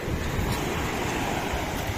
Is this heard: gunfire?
no